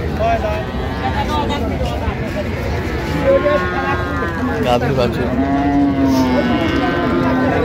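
Cows and calves mooing at a busy rural cattle market in Dinajpur, with several long drawn-out moos overlapping. Crowd chatter runs underneath throughout.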